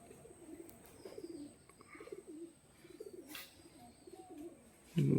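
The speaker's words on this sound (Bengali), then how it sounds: "এটা একটা সিঙ্গেল নর পায়রা বন্ধুরা" A single male pigeon kept at home as a hobby bird, cooing softly in a low repeated rumble, somewhat distant and faint, with a brief louder knock at the end.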